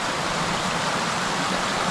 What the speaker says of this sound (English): But the creek is running.